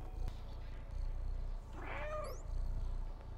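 A cat meows once in the video game Stray, a short rising and falling call over a steady low game-ambience hum, with faint chirps above it.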